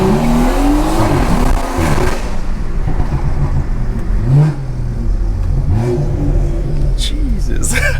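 A loud car with a B58 engine cruises city streets, its exhaust droning steadily with repeated revs and throttle swells, heard close from inside the cabin with a voice talking over it at times.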